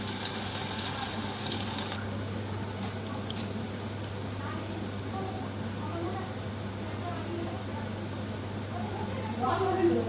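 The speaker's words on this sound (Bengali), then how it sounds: "এবার আস্তে আস্তে আমি বড়াগুলো ভেজে নেব।" Prawn fritters fry in hot oil, a steady close sizzle with a continuous low hum underneath, sometimes broken by faint clinks near the end.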